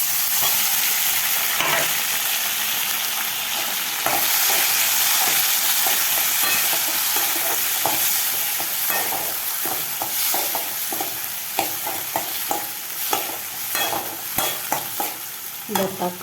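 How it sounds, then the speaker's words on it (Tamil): Tomatoes and onions sauté in a pan for a fish curry, giving a loud, continuous sizzle with frequent scraping stirs that become more distinct and rhythmic toward the end, with no talking. "இந்த நேரத்தில் தக்காளியை போட்டுடலாமா?"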